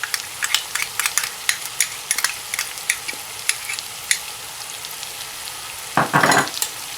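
Tomato paste stirred into sizzling masala for Kashmiri gosht rogan josh, a steady sizzle with repeated sharp scrapes of a spoon against the pan, and a louder burst of stirring near the end.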